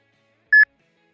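A short electronic beep, a single clean tone lasting a fraction of a second, auditioned as a candidate sound effect for a thermometer in a ghost-hunting game; otherwise silent.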